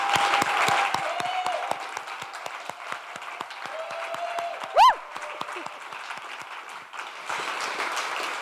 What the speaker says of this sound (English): And just another huge round of applause for our innovators today.